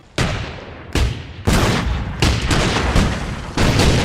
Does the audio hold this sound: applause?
no